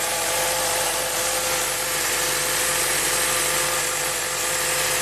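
A Chevrolet Cruze turbocharged engine idles loudly and roughly up close, a dense, erratic mechanical roar with a constant whine and no voices.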